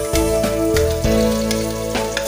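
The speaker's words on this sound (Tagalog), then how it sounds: "once na mag-turn brown na po yung ating bawang" Garlic frying in hot oil until browned for a Filipino misua vermicelli soup, a loud continuous sizzle with periodic clatters and scrapes of stirring against the pan, no voices.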